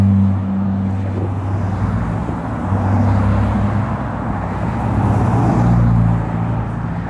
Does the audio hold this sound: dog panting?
no